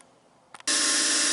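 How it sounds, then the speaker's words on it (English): An air compressor kicks on in a workshop after a brief couple of clicks, then runs loud and steady as a broadband hiss and drone with no talk. "my air compressor just kicked on"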